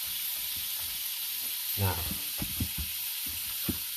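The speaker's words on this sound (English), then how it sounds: "You see how that sounds? That crispiness, that sizzling." Steady hissing sizzle of food frying in a hot pan, with a brief stir and a spoken word partway through.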